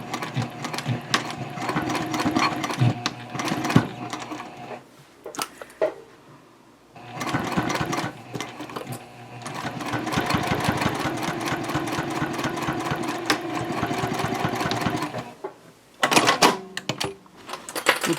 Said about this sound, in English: I'm sewing a 1/2 inch seam